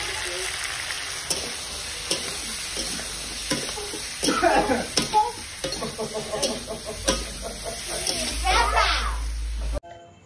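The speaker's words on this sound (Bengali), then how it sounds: "এবারে লাল লাল করে একটু ভেজে নেব" Spices fry in hot oil in a pan, a steady sizzle with stirring scrapes and clinks, continuous and close; a voice speaks faintly in the background.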